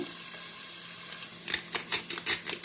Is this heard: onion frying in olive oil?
yes